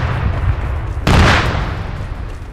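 Gunfire in the military shooter Arma 3: a loud close burst of shots erupts about a second in over constant low battlefield rumble, then fades back to a steady background.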